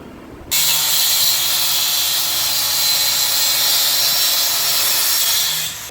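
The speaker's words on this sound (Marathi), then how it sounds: "स्क्रू फिट करतोय ड्रिलने" Power drill driving screws into a wooden box, a loud continuous whirring run lasting over five seconds, starting and stopping sharply with no talk.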